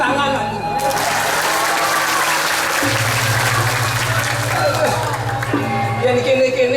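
Audience at a Balinese drama gong comedy show breaking into loud, sustained applause and crowd noise, with voices and music carrying over it throughout.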